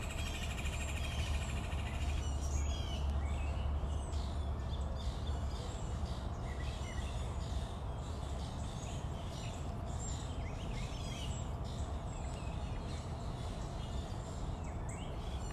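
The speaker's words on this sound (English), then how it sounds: "It's so noisy over here with birds, honestly." Dense, continuous chirping and calling from many birds at a big cat rescue sanctuary, steady and fairly loud throughout, over a constant background hum.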